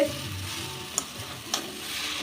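Close, steady sizzle of Nepali-style spiced potatoes frying in oil in a wok, with a couple of brief stirring clinks against the pan.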